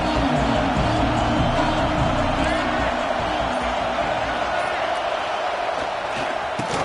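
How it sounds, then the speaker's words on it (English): Dense, steady roar of a large stadium crowd at a Florida vs LSU football game, loud and continuous throughout, with commentary voices mixed underneath. "Crowd bringing the energy and noise early."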